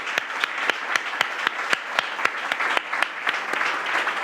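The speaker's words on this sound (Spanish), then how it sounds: "pido un aplauso para este hombre porque es sorprendente de entrada todo lo que ha hecho" Steady crowd applause from an audience at a talk on the history of sport climbing in Málaga, with dense clapping and sharp individual claps standing out throughout.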